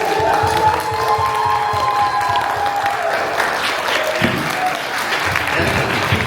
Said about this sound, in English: can we get a quick round of applause for Greg and Maxwell?